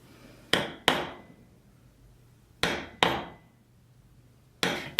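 A mallet strikes a leather tooling stamp in five sharp, close knocks on leather for an Aquaman cosplay piece: a quick pair, a pause, another pair, then a single blow, each ringing briefly before fading.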